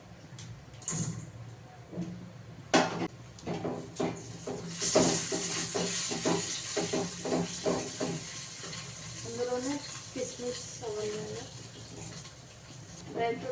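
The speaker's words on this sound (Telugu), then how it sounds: "డ్రై ఫ్రూట్స్ నెయ్యి ఎంపుతాం కదా చూడండి ఇలా మంచిగా ఎంపుకోవాలి" Cashews, almonds and raisins fry in hot ghee with a soft crackling sizzle, broken by scraping stirs and clinks of a spoon, while someone talks at intervals.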